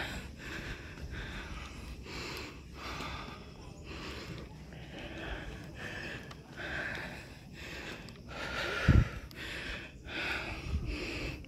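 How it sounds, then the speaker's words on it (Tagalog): Heavy panting breaths after a climb up to a treetop observation deck, a steady series of close, rhythmic gasps and sniffs with one sharper burst near the end. "Obvious na obvious sa audio. Hinihingal po."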